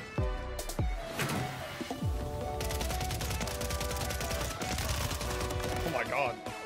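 Rapid gunfire rattles through a Warzone match, bursts of automatic shots and scattered single cracks layered under excited talking from a player.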